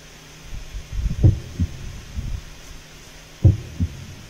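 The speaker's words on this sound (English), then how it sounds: "I guess this is like a heartbeat sound or something" A creature's heartbeat in a game, a soft, muffled, low double thump repeating at a slow, steady pace over a faint background hum.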